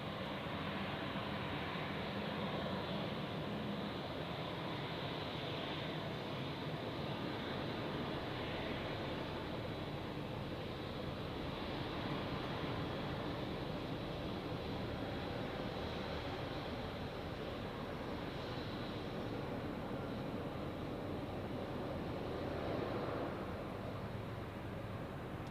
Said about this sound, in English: Taxiing to runway 28, a lot E190